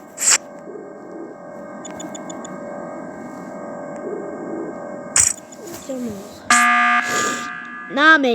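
In an Among Us game, the emergency meeting alarm sounds as a loud, bright, warbling burst of blaring tones near the end, following scattered game sound effects, with a voice talking between them.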